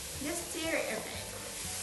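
Food sizzles in a hot oiled pan with ginger as it is stirred, a soft crackling hiss with brief scraping strokes, quiet and close.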